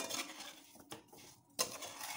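A spoon stirs amla pickle in a metal pot, making faint scraping and a couple of sharper clinks against the pot rim, quiet and close.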